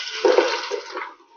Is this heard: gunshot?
no